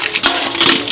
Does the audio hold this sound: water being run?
yes